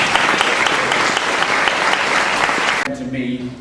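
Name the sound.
audience applause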